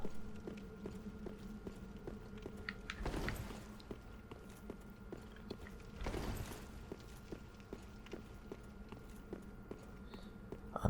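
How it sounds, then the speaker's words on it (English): An armoured knight walks in Dark Souls 3, with evenly spaced footsteps clicking steadily over a low background hum and two louder whooshing swells. "I'm just calmly listening to my footsteps."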